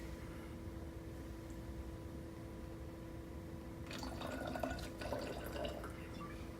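During bartender training, a drink is poured at a bar, heard as a soft, faint trickle of liquid building in the last few seconds over a low background hum.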